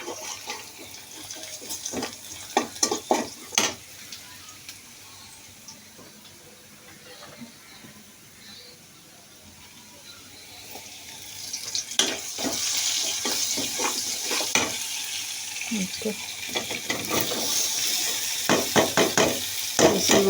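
Food fries in oil in a pot on a stove, giving a continuous sizzling hiss with scattered clanks and taps of utensils. The sizzle swells louder in the second half.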